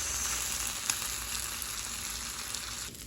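Bacon sizzles steadily in a glass frying pan, a dense even crackle with a few faint pops, fading slightly near the end.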